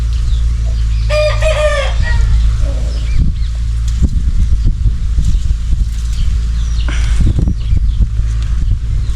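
A rooster crows with a loud, clear call near the start, then falls quiet while a steady low hum and scattered knocks and rustles continue underneath.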